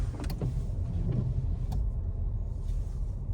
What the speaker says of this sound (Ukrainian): І це кожен раз, коли вмикаються дворники, так якщо не стоять в автоматичному режимі, воно так щолк-щолк робить.